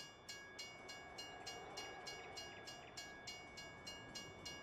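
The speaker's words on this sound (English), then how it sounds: "There goes the train." A distant train in Farming Simulator 19 rumbles past with a steady, regular clickety-clack of wheels over rail joints and a faint tonal hum, no voices.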